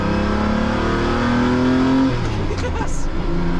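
A Lamborghini Countach engine revs hard during a pull, a loud, close, rising roar that climbs in pitch for about two seconds, then drops back as a voice speaks over the fading engine.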